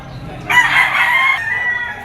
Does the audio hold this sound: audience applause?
no